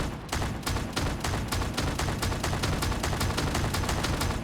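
Full automatic weapon fire in a video game, a loud, rapid, unbroken burst of evenly spaced shots that runs close and dense for several seconds without a pause.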